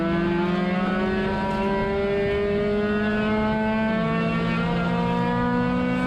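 Spec-Mazda race cars in a racing video game accelerate hard down the back straight of Suika Circuit, a loud, steady layered engine drone with pitch climbing smoothly through the gears, several cars overlapping.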